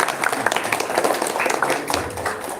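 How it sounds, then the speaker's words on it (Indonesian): An audience applauds at the close of a Palembang wayang performance event, a brisk patter of many hands clapping throughout, fairly close, with faint voices underneath. "Tepuk tangan sekali lagi yang mulia."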